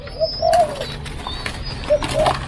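Young French dove in a breeding aviary gives several soft, short coos spaced through the clip, close by, with faint background birds and no talk.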